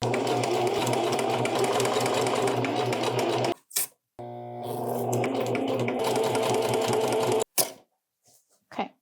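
A sewing machine top stitches Lane Pants fabric in two long steady runs of rapid needle clatter, each ending abruptly, with a brief handling clunk between them.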